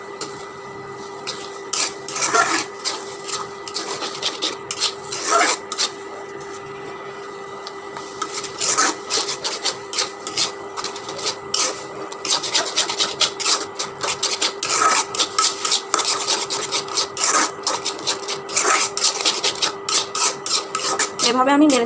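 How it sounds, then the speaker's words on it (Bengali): Egg and tomato are stirred and fried in hot oil in a pan, with a spatula scraping the pan in repeated rasping strokes. The scraping grows busier over a steady background hum, and no one speaks. "এভাবে আমি নেড়ে ছেড়ে একদম ভাজা ভাজা করে নেব।"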